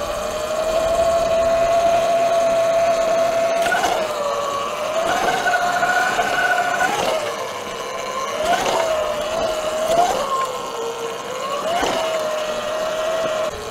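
An Eride Pro SS electric dirt bike crawling slowly along a trail, its tonal motor whine rising and falling with throttle changes over steady rolling and wind noise, close and continuous.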